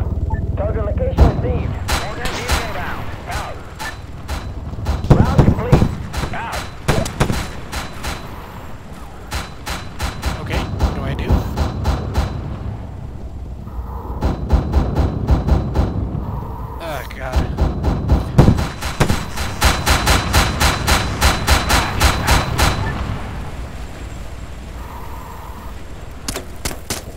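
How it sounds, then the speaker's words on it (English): Artillery strike in Arma 3: repeated bursts of booming blasts and crackling impacts in clustered volleys, loud and close, with pauses of lower rumble between salvos. "Requesting immediate artillery support at the designated coordinates."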